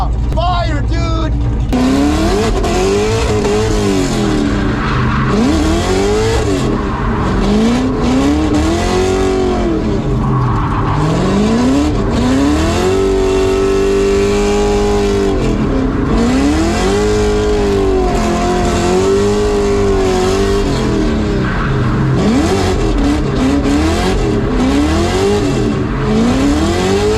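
An Australian muscle ute's engine revs hard again and again, its loud pitch rising and falling in long sweeps close by, with voices faintly underneath.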